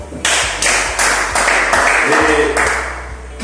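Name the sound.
audience applauding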